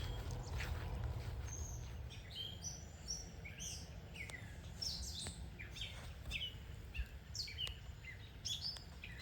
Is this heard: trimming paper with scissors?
no